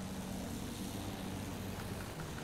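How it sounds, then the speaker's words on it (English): Constant droning hum of enemy propeller planes in a video game, an even engine and airscrew wash that holds steady throughout with no speech. "the enemy planes are going for it"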